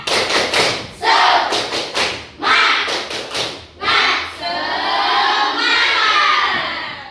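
Classroom children perform the 'tepuk semangat' clap chant, sharp group claps in patterned bursts mixed with loud chanting and shouts, close and energetic.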